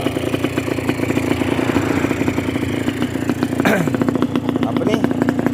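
Yamaha SS motorcycle engine running steadily after repair, a close, even idle with one quick sweeping rev near the middle.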